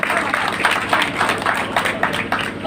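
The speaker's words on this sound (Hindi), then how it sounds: "जोरदार तालियां।" Crowd clapping at an outdoor political gathering in a village, a brief burst of dense, steady applause close by that continues throughout without pause.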